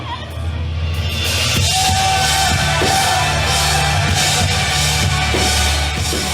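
A concert crowd yells and jumps, a loud, dense and continuous roar of voices over heavy low-end thumping, close and overwhelming throughout.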